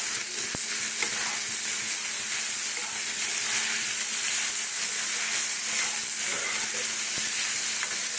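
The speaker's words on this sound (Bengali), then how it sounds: "বাটা দেবো প্লাস গোটা পোস্তটা দিয়ে একটু কড়াতে নাড়িয়ে দিলাম" Poppy seeds frying and being stirred in a kadai, with poppy paste added, give a dense, even hiss that fills the whole stretch, with only an occasional faint knock of the spoon and no voices.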